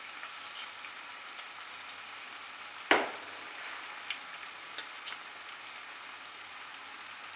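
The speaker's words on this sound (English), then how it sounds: "Now add the mustard paste." Mutton curry frying in a pan as mustard paste goes in, a soft steady sizzle with one sharp clatter and a few faint ticks, no talk.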